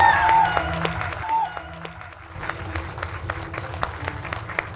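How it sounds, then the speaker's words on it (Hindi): A crowd claps at a celebration event, with dense applause and scattered cheers under ongoing talk from a host, steady and moderately loud. "जोरदार तालियां अपने लिए"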